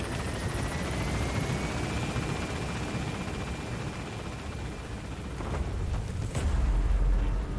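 Helicopter in the video game Metal Gear Solid V: The Phantom Pain lifting off, a steady loud rotor drone that fills the clip and swells louder toward the end as it gains altitude.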